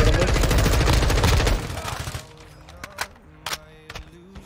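Gunfire in the Warzone video game: a loud, rapid burst of automatic shots fills the first two seconds, then a few scattered, sharper single cracks follow over quieter background.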